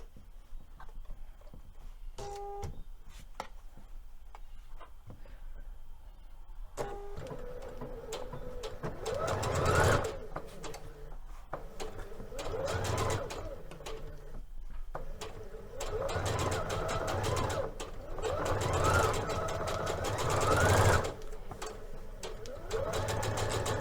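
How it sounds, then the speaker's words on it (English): Sewing machine stay stitching the seam allowance of a Liberty London palazzo suit, starting after a quiet pause and then running in steady bursts with brief slowdowns, close and fairly loud. "you want to make sure you stay stitch within the seam allowance"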